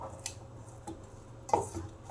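Black salt being mixed into ingredients in a bowl for momos, with soft scattered clinks and scraping from a utensil against the bowl, faint and close.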